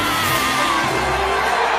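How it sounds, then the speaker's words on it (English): A race crowd cheering wildly as Lightning McQueen enters the track, a dense, loud roar of shouts and whoops filling the whole moment without letup. "When he enters the track, the crowd goes wild."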